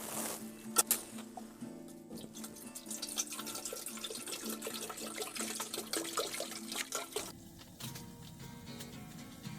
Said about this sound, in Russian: Заливай водой.